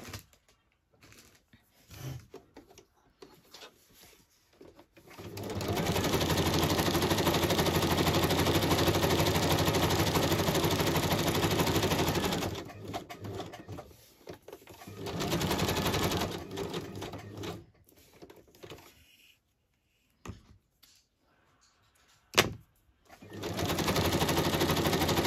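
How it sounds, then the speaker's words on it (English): A sewing machine stitches around an envelope made from altered packaging, running in a long steady burst of rapid mechanical chatter, then several shorter bursts separated by quiet pauses. "so I'll stitch around that quickly"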